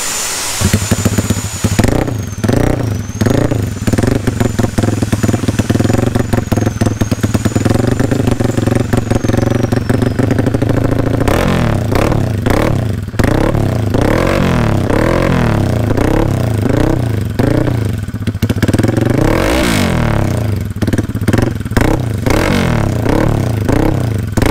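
A motorcycle fitted with a loud aftermarket exhaust, modified for an extra-loud sound at a workshop, revs repeatedly in loud, close throttle blips with an idle between bursts.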